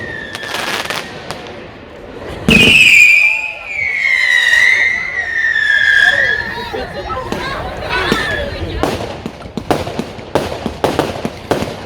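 Firework cake at an outdoor display in Liverpool firing glitter and strobe effects: loud bursts, rising whistles and dense crackling that fizzles out into scattered pops, with crowd chatter underneath.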